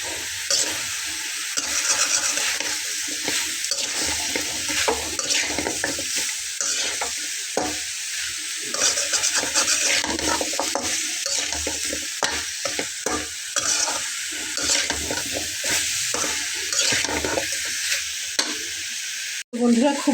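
Ash gourd curry stir-fried with spices in a wok, sizzling steadily with repeated scraping and stirring strokes close by, loud and continuous, no voices.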